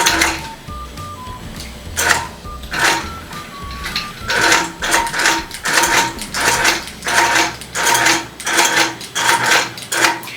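A sewing machine stitches a quilt in a run of rapid mechanical clatter, with short bursts and pauses at first, then a steadier rhythmic chatter close to the microphone.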